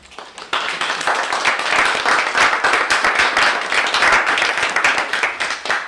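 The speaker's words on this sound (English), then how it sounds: "I don't remember getting as much applause last year" An audience bursts into applause at a community celebration day, a dense, steady patter of many hands clapping that starts abruptly after a brief pause and holds loud for several seconds.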